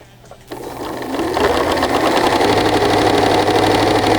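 A sewing machine stitches a rolled hem, starting after a brief quiet moment and rising into a loud, close, continuous motor whir with rapid needle chatter that holds steady to the end.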